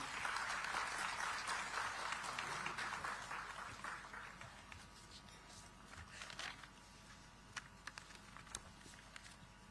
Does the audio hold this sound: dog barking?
no